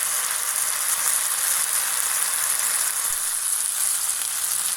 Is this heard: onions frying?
yes